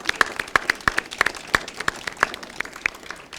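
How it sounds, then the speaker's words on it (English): Parents at a school reading-center awards event clap in sparse, uneven applause, distinct individual claps standing out at moderate distance with no one speaking. "So parents, give yourself a round of applause."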